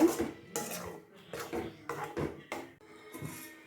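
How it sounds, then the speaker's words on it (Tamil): Ground masala being stirred in a pan for sundavathal kulambu, giving a series of distinct scraping and clinking strokes of a utensil against the metal pan in an irregular rhythm, close and fairly quiet. "மசாலா எல்லாத்தையும் ஆட் பண்ணிவிட்டு லைட்டாக கிண்டி விடுங்க."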